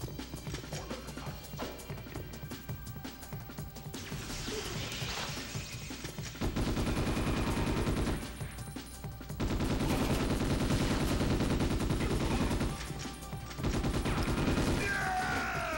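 Bursts of automatic gunfire from the Ghost in the Shell: S.A.C. video game, loud sustained volleys separated by brief pauses, with shorter scattered shots and game effects in between.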